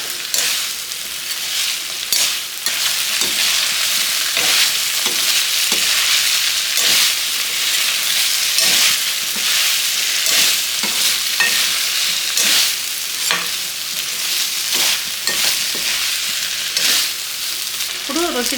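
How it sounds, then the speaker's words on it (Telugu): Potato and cauliflower pieces fry in a pot for pulao, a constant loud sizzle broken by repeated sharp scrapes and clatters of a spoon stirring against the metal. "ఆలు వేసినాక కొంచెం ఒక రెండు నిమిషాల పాటు వేయించినాక అప్పుడు క్యాలిఫ్లవర్ వేస్తే సరిపోతుంది"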